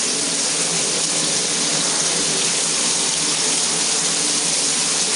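Steady water running for a shower, a continuous broadband hiss that stays even and close throughout with no voices.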